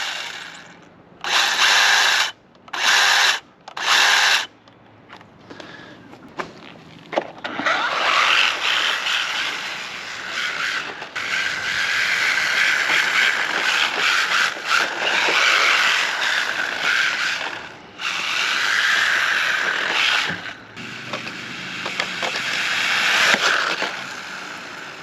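A 1/16 scale 4WD brushless RC drift car whines and buzzes as it is driven hard: three short bursts at first, then long sustained high-pitched motor runs with brief dips in throttle, fairly close.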